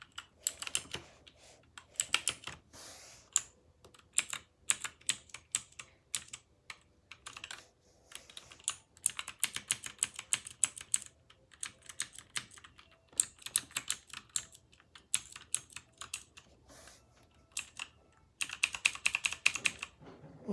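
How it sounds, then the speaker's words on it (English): A computer keyboard is typed on steadily during a warfare game, with bursts of quick, fairly quiet clicking keystrokes separated by short pauses, close by and without talk. "It's not that good of a keyboard."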